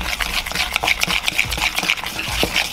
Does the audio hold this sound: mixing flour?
yes